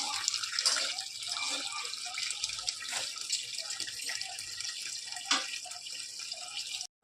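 Water pours into a saucepan of mutton jadoh as a continuous, soft splashing and trickling stream for several seconds, with faint background noise.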